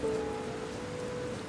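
Heavy rain pours in an animated story, a dense, continuous hiss of falling water with a faint sustained tone underneath, steady and fairly loud.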